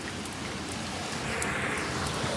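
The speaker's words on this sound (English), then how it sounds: "This is hell's rain right here." Heavy rain pours down in a dense, steady roar that stays loud and unbroken throughout, with no voices.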